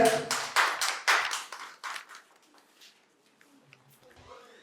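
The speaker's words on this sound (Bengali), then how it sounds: "জোরে হাততালি হয়ে যাক" Audience applause at a medical college quiz competition: a burst of loud, rapid clapping from a crowd that fades out after a couple of seconds, followed by quiet room noise and faint voices.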